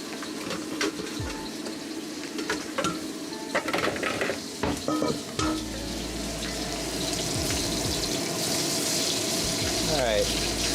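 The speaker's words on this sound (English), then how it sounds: "Those are searing nicely." Lion's Head meatballs sear in a hot pan with a crackling sizzle, mixed with clinks and scrapes of handling and running water, and a voice speaks in the background.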